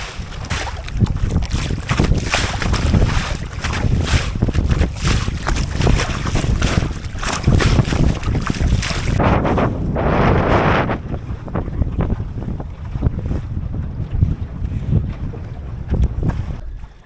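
Strong wind buffets the microphone aboard a Drascombe Lugger sailboat out on open water, a loud continuous roar with rushing water beneath that eases briefly partway through before picking up again.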